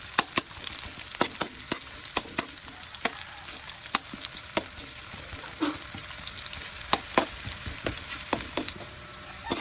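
Ginger sizzling and frying in a pan until browned, a steady close hiss of hot oil with frequent sharp crackles and pops, no talking.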